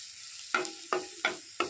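Ginger, garlic and onion frying in a pan give four sharp bursts of sizzle and scrape, each fading quickly, evenly spaced about a third of a second apart, close and fairly quiet.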